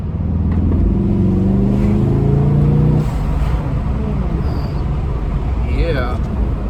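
Volkswagen Golf R MK7 with a GFB DVX blow-off valve pulls hard under acceleration, a loud rising engine drone for about three seconds, then eases off into a lower rumble with a brief hiss near the end.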